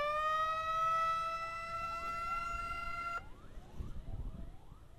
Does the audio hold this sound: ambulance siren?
yes